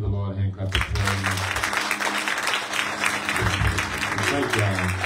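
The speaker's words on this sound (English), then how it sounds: "give the Lord a hand clap of praise" Congregation clapping hands in praise during a Sunday church service, a dense sustained wash of applause with music and voices underneath throughout.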